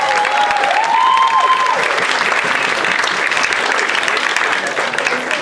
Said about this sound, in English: So if we could give Bob a big round of applause.